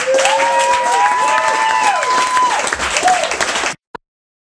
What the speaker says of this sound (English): Keep your hands together for Johnny Osborne, everybody.